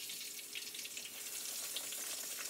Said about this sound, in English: This is frying up really nice.